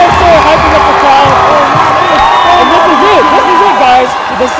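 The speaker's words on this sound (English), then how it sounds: "We have the crowd hype right now." Pre-game crowd at a Kingsway College vs Crawford Adventist Academy basketball exhibition cheers and whoops continuously, a loud dense wall of voices with shouts and some clapping throughout.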